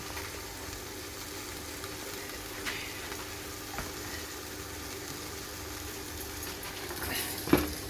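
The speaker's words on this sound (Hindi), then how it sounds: "अब हम इसमें डालेंगे पास्ता।" Pasta going into a hot pan for chicken pasta: a low, even sizzle runs throughout, with a sharper clunk near the end and no talking.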